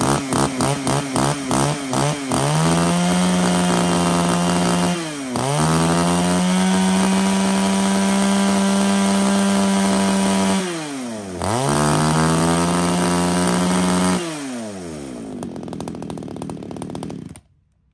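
A small 33cc chainsaw runs loudly and close, sputtering at the start, then revving to a steady high whine, dipping back to idle twice and rising again, before winding down and cutting out at the end.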